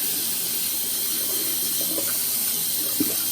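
Tap water runs steadily into a sink while makeup sponges are washed, a constant close hiss with faint splashes and one brief clunk near the end.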